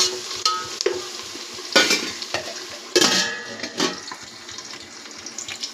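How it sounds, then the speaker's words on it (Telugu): Onions frying in a pan for chicken biryani, with bursts of sizzling and stirring scrapes rising and falling, fairly close and loud, no voices. "ఆనియన్ బాగా ఫ్రై అవ్వాలి."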